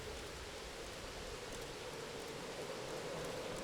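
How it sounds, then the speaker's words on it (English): Heavy rain pours steadily in Shadow Hearts: Covenant, a dense, even hiss of rainfall that holds constant throughout with no voices over it. "It's raining heavily."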